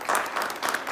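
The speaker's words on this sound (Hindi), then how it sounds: "उनके लिए जोरदार तालियां बजाएंगे।" A church congregation applauds loudly in short bursts of clapping, close and dense, with no voices over it.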